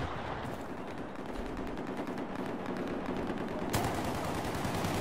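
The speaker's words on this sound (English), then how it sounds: "Oh, shooting me from the bottom" Rapid automatic gunfire from a Battlefield 4 squad deathmatch, dense bursts of shots running loud and continuous, with a sharper crack near the end.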